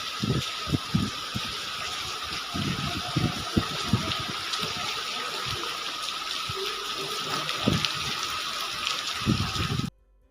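Heavy rain pouring steadily into a pond, a dense continuous wash of water with scattered louder splashes and low thuds throughout, cutting off abruptly near the end.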